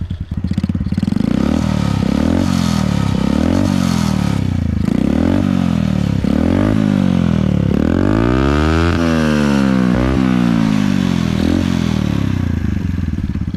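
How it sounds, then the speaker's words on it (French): Small 50cc motorbike engine running loudly up close, revving up and down repeatedly with a buzzy, rising and falling pitch. "Je vais vous le démarrer pour que vous écoutez le bruit les gars"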